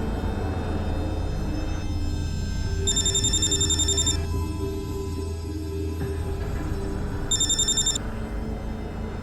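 A telephone rings in two trilling bursts a few seconds apart over a steady low background hum, with no voices.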